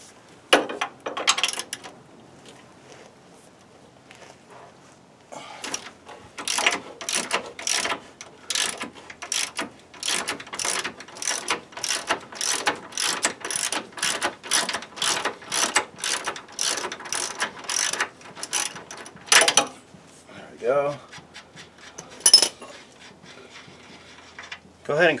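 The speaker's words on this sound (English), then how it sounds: "Let's go ahead and take this 18mm bolt off that holds the track bar on." A hand ratchet clicks rapidly and evenly in a long run as it backs out an 18mm track bar bolt under a 1999-2004 Jeep Grand Cherokee, close up, with a few looser clunks of the bolt and tool at the end.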